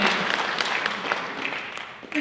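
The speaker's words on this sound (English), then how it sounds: "yes, applause" Applause breaks out from an audience at a Girl Scouts cookie event, a brief, moderately loud patter of clapping that seems to sit partly under a speaking voice.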